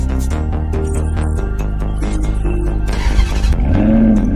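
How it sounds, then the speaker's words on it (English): A car engine cranks and fires up, then settles into a loud, close idle with a low steady rumble and a slight rise in revs near the end. "Hi, Bixby. Start the engine."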